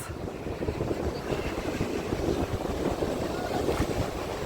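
A warm ocean breeze gusts steadily across a sandy beach at Lagoa de Albufeira in Portugal, with continuous rumbling wind buffeting the microphone and the surf washing behind it.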